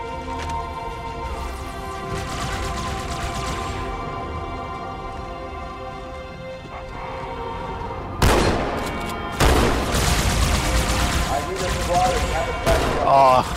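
Gunfire in Halo 2 on Cairo Station: a quieter stretch of game sound gives way to loud, dense bursts of shots and blasts in the latter half, with a voice talking over parts of it.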